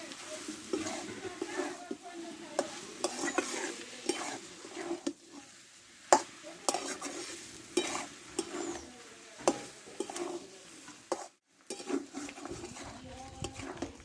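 Goat mutton being stir-fried in a pan, with scraping stirs and a soft sizzle in uneven bursts, close by and fairly quiet.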